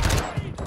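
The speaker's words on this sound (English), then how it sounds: "Dude, stop shooting each other." Gunfire in a multiplayer shooter match on the Al Mazrah or Vondel map comes as a loud, dense burst of rapid shots, close and harsh, crowding the entire short moment.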